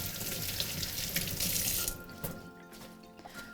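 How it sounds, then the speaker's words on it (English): Basil leaves rinsed under a running kitchen tap at a summer barbecue cookery demo, a steady close splash of water for about two seconds that then cuts off, leaving faint drips and quiet room sound. "So we need to give this a little rinse."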